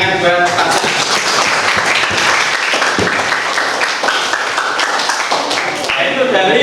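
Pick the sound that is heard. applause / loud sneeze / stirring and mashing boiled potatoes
applause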